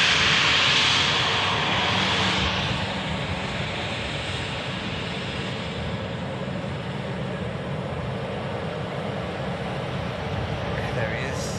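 An Air France Airbus A380 on final approach, arriving from Charles de Gaulle, gives a steady broadband engine roar that is loudest at the start and eases slightly as it passes. A voice talks over it at times.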